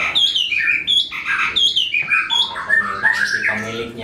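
A magpie robin (murai batu) at a songbird training school in Tangerang sings loudly and close by, in a continuous run of bright, varied whistles and chirps with sharp rising and falling notes.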